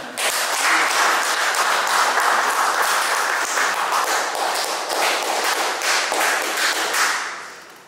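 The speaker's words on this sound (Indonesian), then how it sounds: "Kita boleh tepuk tangan." A crowd applauds loudly and continuously at an SVD Java province leadership handover ceremony, many hands clapping at once, then the clapping fades out toward the end.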